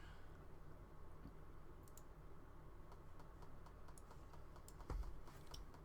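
Rapid keyboard typing and computer clicks during a Modern Magic: The Gathering match, a steady stream of light taps with a few sharper clicks over a low constant hum, with no talk.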